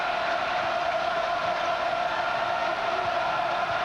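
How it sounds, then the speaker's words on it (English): A basketball crowd at a Florida State at Duke game rises to its feet, and its cheering swells into a steady roar that holds at the same level with no break from start to end. "Crowd on its feet."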